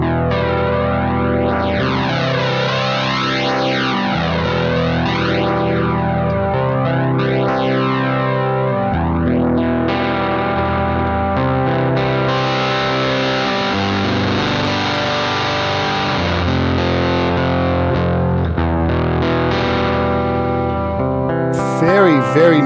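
Heavily distorted electric guitar through a Nembrini Jazz Chorus amp simulation on iOS rings out in long, loud sustained chords with a warbling chorus sweep, continuous throughout with a brief pick scrape near the end.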